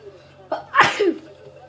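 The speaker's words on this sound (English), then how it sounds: "Sorry, I've been sneezing all week." A single sneeze bursts out close up, a short sharp intake followed by an explosive release, with quiet hum around it.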